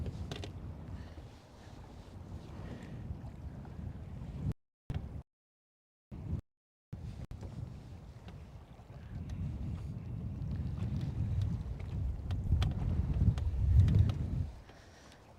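Breeze gusting across open lake water on Lake Guntersville, a steady rushing wind buffeting the microphone with low rumble that swells louder toward the end, broken briefly by a couple of short dropouts.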